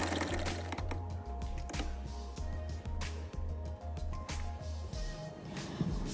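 A tailor's sewing machine stitches trouser fabric over attached elastic, running in rapid mechanical bursts with short pauses between them, close and fairly loud, with small handling clicks.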